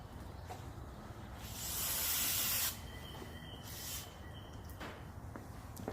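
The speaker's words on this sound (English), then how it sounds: "spray cleaner." Spray cleaner hisses out of a bottle in a garage during an oil change on a lowered Honda Civic Del Sol, one long loud burst followed by a shorter, softer spritz, with faint clatter in between.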